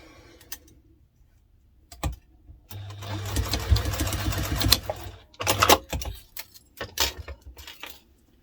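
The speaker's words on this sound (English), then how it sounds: "remembering to back stitch at the start and stop." A sewing machine stitches fabric for an onigiri bag in one steady burst of a few seconds, with short back-stitch runs and clicks before and after, close and moderately loud with no talk.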